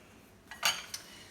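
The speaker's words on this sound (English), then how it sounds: "this is called a pastry blender" A metal pastry blender knocks against a bowl of self-rising flour and milk being mixed for chicken and dumplings, giving two or three short, light clinks close by with no talking.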